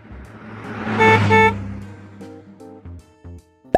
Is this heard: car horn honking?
yes